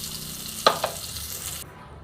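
Fried pointed gourd, slit and cooked with turmeric, is lifted out of hot oil: a soft steady sizzle with a couple of sharp utensil clinks, then the frying fades.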